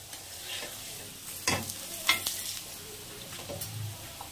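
Egg paratha in oil on a very hot tawa over a low gas flame, giving a soft steady sizzle with a few stirring scrapes and short louder bursts, close and without talk.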